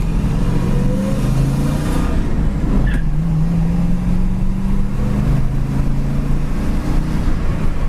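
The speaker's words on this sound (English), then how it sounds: "this little small block with a 3-speed, it gets it down the road 60, 70 mile an hour in a heck of a hurry" Small-block V8 in a 1973 Ford Mustang fastback with a three-speed runs steadily and loudly up close, a continuous low engine rumble throughout with slight pitch shifts, no talk over it.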